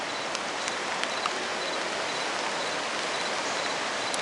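Steady, dense rain falls outdoors at Cape Lookout during Hurricane Ophelia, a continuous hiss of drops on surfaces with a few faint brief ticks, and no talking.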